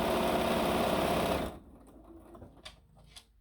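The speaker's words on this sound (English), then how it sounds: "And then we're going to sew this one on" Sewing machine stitching a quarter-inch seam on a quilt block, running with a fast, steady whir for about a second and a half before stopping abruptly, followed by faint handling noises and quiet clicks.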